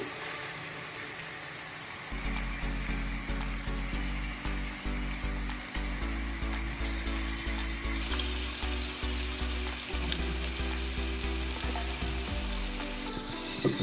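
Pieces of korrameenu fish coated in masala fry in a pan as a constant close sizzle and bubbling, under a low droning hum, with occasional clicks as pieces go in and shift.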